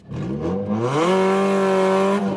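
A Nissan Sentra Spec V SE-R with a swapped JDM engine and a fresh, unbroken-in clutch revs hard in a burnout attempt, its loud close engine note climbing quickly and then holding high.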